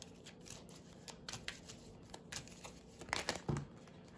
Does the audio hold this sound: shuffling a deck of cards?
yes